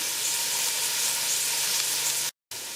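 Smoked sausage sautéing in a pan for pancit bihon, a steady close sizzle that holds evenly throughout, then cuts out for a moment near the end before resuming.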